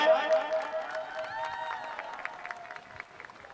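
A crowd claps at a live Jain devotional evening and felicitation ceremony in Komakhan, a busy wash of hand claps over amplified music and voices that slowly thins out.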